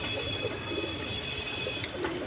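Army-breed pigeons kept as a pair in a loft in Keraniganj, Dhaka, give soft, low repeated cooing close by, with a faint steady whine in the background and no talking.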